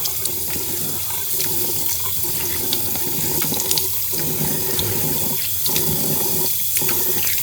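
Tap water runs steadily into a sink for face washing after a shave in 28°F early-morning cold, a continuous close splashing stream with no voices.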